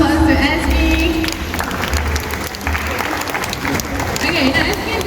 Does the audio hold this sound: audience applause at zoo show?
yes